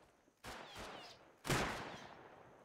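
Gunfire from the player in Rust: two sharp shots a second apart, each cracking loudly and then trailing off in a short echoing tail, with no speech.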